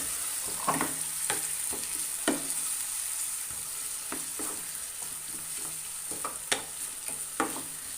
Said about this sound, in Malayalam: അപ്പോൾ അത് മിക്സ് ചെയ്തിട്ട് ഇതേപോലെ ഇതിൽ ചേർക്കാം ഒന്ന് നല്ലോണം അത് ചേർന്ന് മിക്സ് ചെയ്തെടുക്കാം